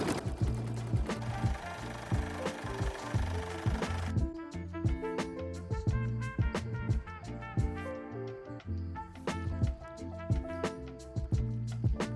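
A Brother single-needle embroidery machine stitches steadily, its rapid mechanical needle rhythm running close and continuous throughout, with no talking.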